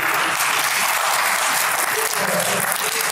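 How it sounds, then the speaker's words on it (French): Conference audience applauds the presenters, a loud, close, dense burst of clapping that stays full and even for about three seconds. "est-ce que vous pouvez applaudir?"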